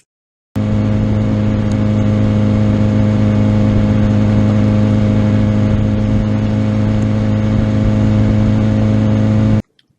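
A motorcycle engine on a No Body Steering training bike runs loud and steady, a constant mid-pitched drone with little change in pitch, starting and stopping abruptly, with no talking.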